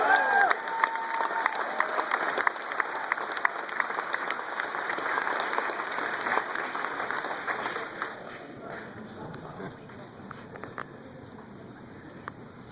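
Crowd at a New Hampshire political campaign rally applauding and cheering after a candidate's speech, dense sustained clapping with shouts, loud at first and gradually thinning toward the end.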